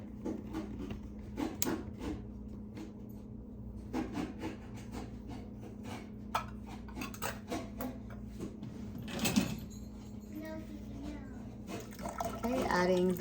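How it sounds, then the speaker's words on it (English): Tomato puree poured into a stock pot for venison soup, a soft wet glugging and splashing that swells briefly near the middle and again at the end, over steady kitchen background noise. "adding the tomato puree"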